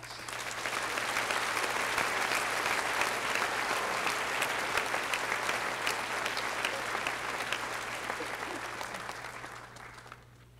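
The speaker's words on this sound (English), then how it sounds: "Let's please give them a round of applause." Sustained audience applause at a 2019 graduate commencement, steady broadband clapping from a large crowd lasting about ten seconds before tapering off, with a constant low hum underneath.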